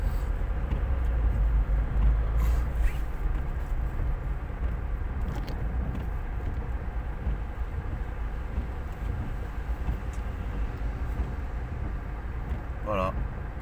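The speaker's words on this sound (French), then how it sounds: "Il y a le camion là qui fait les livraisons" A delivery truck rumbles past on a street with a heavy, steady low engine drone that lasts throughout, while people talk nearby.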